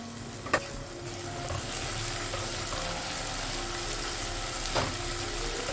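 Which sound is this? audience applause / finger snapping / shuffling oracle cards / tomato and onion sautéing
tomato and onion sautéing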